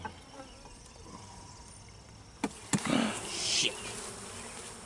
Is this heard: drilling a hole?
no